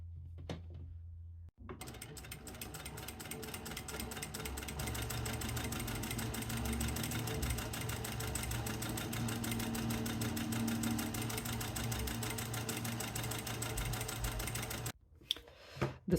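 A sewing machine runs steadily for about fifteen seconds, top stitching along the straps of a tote bag, with a dense, continuous mechanical whir after a brief start and a short pause before stopping.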